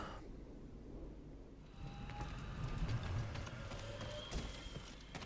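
Horse hooves clip-clop in the Ghost of Tsushima video game as riders mount up, a steady rhythmic patter of hoofbeats with game ambience around it, moderately near and alone without talk.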